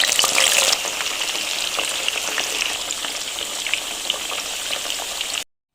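Taro pieces frying in hot oil for a Comorian dish give a steady, close crackling sizzle, louder at first and then settling into a constant bubbling hiss before cutting off.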